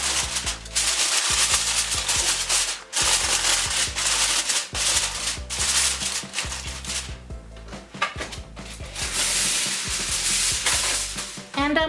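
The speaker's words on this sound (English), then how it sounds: "I'm going to grab some aluminum foil, and I'm going to cover" Aluminum foil is crinkled and pressed over a pan of rubbed ribs, making dense, loud, close-up rustling and crackling with repeated sharp crumpling bursts.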